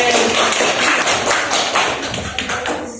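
A classroom of students claps loud and dense for about three seconds, a close, continuous patter of hands with no talking.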